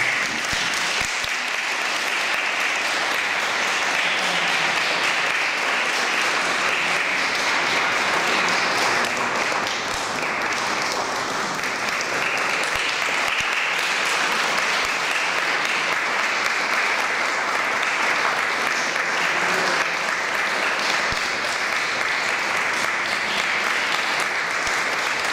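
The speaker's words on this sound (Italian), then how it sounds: "vi accoglierei davvero ora con un applauso" A concert audience applauds the artists at an opera-in-concert performance of rococo masters, a loud, sustained wall of clapping that stays full and even across the whole stretch, with no voices on top.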